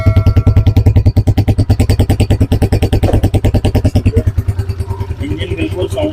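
A United US 125 motorcycle with a 125cc engine idles steadily, its close, loud, even exhaust pulses thumping in a regular rhythm that softens slightly toward the end.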